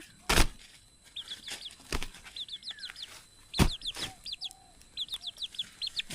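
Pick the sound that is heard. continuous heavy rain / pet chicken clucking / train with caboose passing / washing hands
pet chicken clucking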